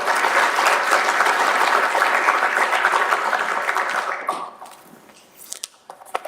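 Loud, dense audience applause fills a high-level research forum, sustained for about four seconds before tapering off into scattered final claps.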